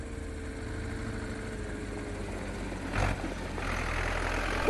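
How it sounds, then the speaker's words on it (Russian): Tractor hauling crates of cabbage from a field, a steady low engine drone at some distance, rising slightly as it passes, with no one talking. "Вот вон трактор едет, капусту везет."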